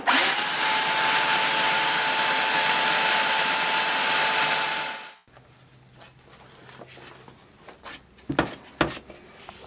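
A power drill bores a hole during a 1978 Chevy Malibu G-body transmission swap, whining loud and steady for about five seconds before stopping abruptly, followed by quieter metallic clanks and handling noises.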